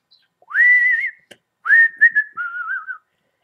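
A person whistles two clear, sliding melodic phrases with a short pause between them, close and alone, with no voices or other sounds.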